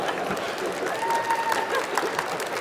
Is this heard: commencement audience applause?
yes